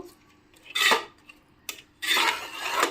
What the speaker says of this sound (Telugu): ఇప్పుడు తాలింపు పప్పు మొత్తం కలిసేలా ఒకసారి కలుపుకోవాలి గట్టితో